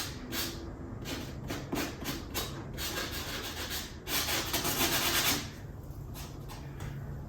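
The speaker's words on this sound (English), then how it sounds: "So I'm using a 150 grit sand block." A 150 grit sand block rubs back and forth over a textured bus conversion wall panel, with close, rhythmic scratchy strokes and a longer push near the end.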